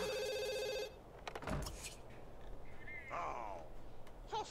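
A telephone rings in The Sims 2, a steady electronic trill that cuts off after about a second, followed by game ambience, clicks and a few short chirping effects.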